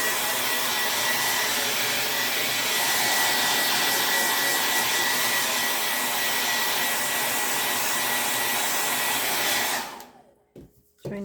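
A hair dryer blows on a freshly washed craft stencil, a loud steady whooshing roar held for about ten seconds before it cuts off abruptly into near silence.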